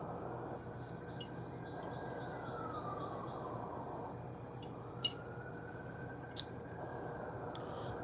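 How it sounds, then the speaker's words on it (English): A siren wails with slow rising and falling sweeps over steady low traffic rumble, with a few brief clicks scattered through. "Confirmation with them sirens."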